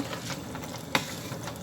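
Basmati rice being stirred in a pan with nuts, a soft continuous scraping and rustling with a faint sizzle underneath and one brief sharper scrape near the middle, with no voices.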